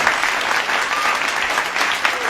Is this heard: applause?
yes